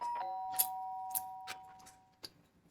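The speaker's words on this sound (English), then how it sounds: "The sharp sound of the doorbell pierced my sleepy haze and pulled me back to the real world" A doorbell sounds a sharp, sustained electronic chime that rings steadily for about two seconds and then fades, with a few faint clicks and knocks around it. The tone is clear and indoors, with no talking.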